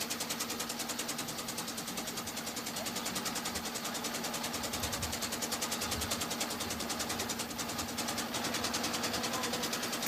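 An old Civil War-era motorcycle engine drives a fourth-generation family olive mill in Extremadura, Spain, giving off a steady, rapid mechanical chugging that runs close and unbroken throughout.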